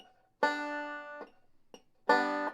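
A plucked banjo note rings out, followed by a faint scratchy pick noise and then a second bright, sustained note.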